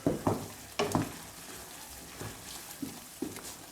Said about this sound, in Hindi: तो अभी इस मसाले की हम बुनाई करेंगे तकरीबन 10 से 15 मिनट।